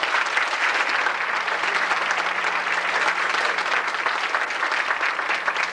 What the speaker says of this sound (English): Let's give them all a big round of applause.